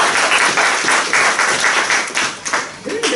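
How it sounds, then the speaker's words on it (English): A room full of people claps steadily throughout, dense and continuous applause with slight swells, a voice briefly audible near the end. "give yourself a big round of applause"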